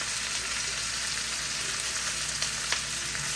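Fresh garlic that has been steeping in olive oil for months frying in a pan, a steady close sizzle and crackle holding evenly throughout with a few faint taps, no talking.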